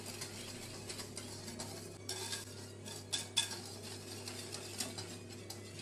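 A utensil clinks and scrapes against a bowl while salt is stirred into far breton batter, quiet and close with a low hum in the background.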